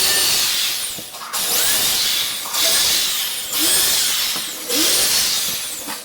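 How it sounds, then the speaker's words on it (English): A power drill whirs in several bursts while pre-drilling a hole for a garage shelf, each winding down briefly before spinning up again, close and loud with no talking. "Now we know to pre-drill it."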